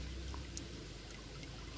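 Water trickling and pouring down into a forest stream in rural Isan, Thailand, a soft, steady, faint liquid wash with small splashes and no voices.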